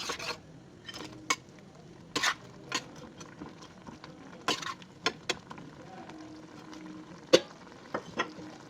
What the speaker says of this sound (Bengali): এবার ভালো করে মিশিয়ে নিয়ে আমি এর মধ্যে চিকেনগুলো দিয়ে দিলাম